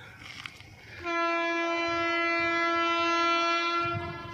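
A Tejas Rajdhani Express on the Delhi–Bhubaneswar route pulls into a station, sounding a loud, steady horn that holds for over three seconds after a brief stretch of low ambient rumble.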